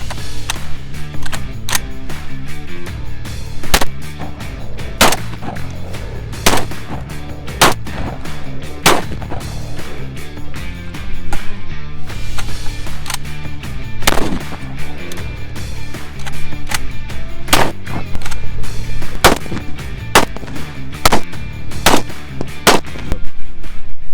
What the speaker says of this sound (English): So the more we shot it, seemingly the better it got.